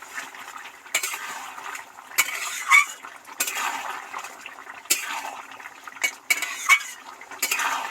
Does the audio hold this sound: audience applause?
no